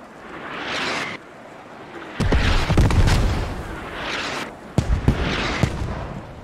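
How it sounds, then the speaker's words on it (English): Counter-battery artillery fire in a military video game: a series of heavy booms and sharp cracks, some near and loud, others more distant, over a continuous rumbling, roaring battlefield background with no talk. "And some counter battery fire"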